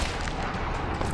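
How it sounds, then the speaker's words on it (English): A single heavy sniper rifle report from Tomb Raider 2013, loud and dense, filling the whole short moment with no voices. "That is a really fast sniper rifle."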